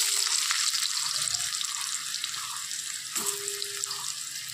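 Cut potatoes fry in hot oil for a fish-head and banana-flower ghonto, giving a steady, broad sizzle that continues throughout, with faint tonal clinks and scrapes of a utensil now and then.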